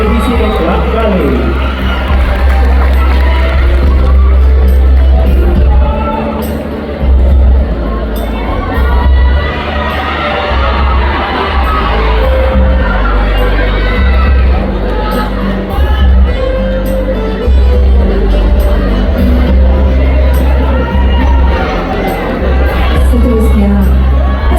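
Crowd at a Kaamatan festival event cheering and clapping loudly and continuously, with shouts and whoops over a steady low rumble, while voices carry through the noise.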